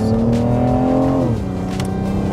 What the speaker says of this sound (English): The car climbs up the RPMs really nice.